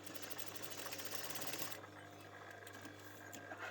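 A sewing machine stitches fabric ties onto the outer edge of a garment piece, a fast steady mechanical whirr with rapid needle ticking that shifts pace partway through.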